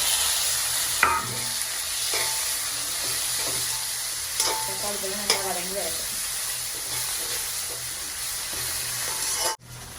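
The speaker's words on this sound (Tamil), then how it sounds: "இதோடைய கொஞ்சம் உப்பையும் போட்டு நம்ம வந்து வதங்க விடுவோம்" Onions and tomatoes sautéing with salt in a pan in a home kitchen, a steady close sizzle with occasional stirring scrapes and clinks running throughout, no talking, ending abruptly.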